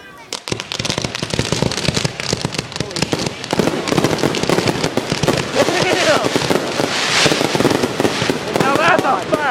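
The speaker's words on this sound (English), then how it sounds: "Now that's a firework ending!" Fireworks show finale, a continuous loud barrage of overlapping booms and crackles with no pauses, while people shout and talk over it.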